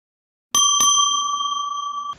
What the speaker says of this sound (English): A bell rang.